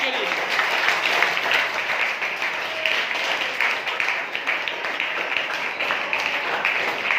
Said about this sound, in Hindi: बहुत सारी तालियां होनी चाहिए टीम बी के लिए